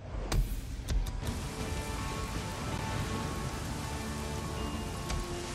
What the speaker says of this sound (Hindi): मजेदार बारिश हो रही है